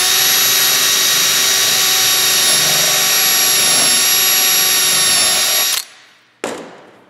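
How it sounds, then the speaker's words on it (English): A power drill bores a hole in a wooden pencil-case build, a loud steady whine running for almost six seconds before cutting off, then a brief short burst of the motor near the end, with no talking. "pull the trigger, and let the drill bit do its work."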